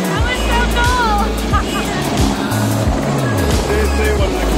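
Helicopter flying over Maui, a steady loud rotor and engine drone throughout with wind noise and people talking over it.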